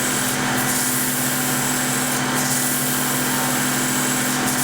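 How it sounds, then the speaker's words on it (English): An inertia sander works a wooden cove, a loud continuous high buzzing hum with a steady drone and grainy rasp, close and uninterrupted throughout. "I can get into that cove. I'm going to sand up the hill here."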